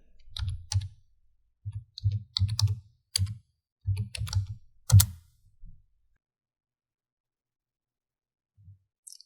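Keys tapped on a computer keyboard while entering a block name in circuit simulation software, heard as clustered bursts of close, clicky keystrokes over about six seconds before falling silent.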